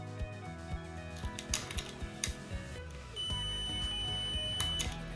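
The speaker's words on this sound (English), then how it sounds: "When we connect the two terminals, a beep sounds." A steady electronic multimeter continuity beep starts partway through and holds while testing an electric motor's coil, over clicking and tapping of handling noise.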